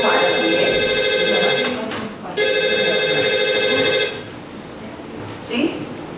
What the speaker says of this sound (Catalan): Ai, el telèfon no para